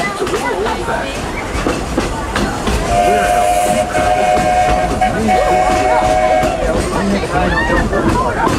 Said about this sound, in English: This old locomotive is descended from the mighty trains that powered the golden age of steam.